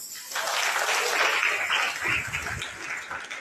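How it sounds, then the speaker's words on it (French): A church congregation claps in sustained, dense applause for the Lord, steady and loud across the whole stretch, with faint voices mixed in. "On peut acclamer le Seigneur"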